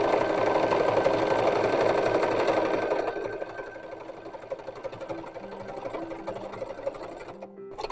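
A sewing machine stitching down the edge of a fabric piece for a 19th-century baby corset runs steadily for about three seconds, then continues more quietly with a faint tone pattern before stopping abruptly, close and without talk.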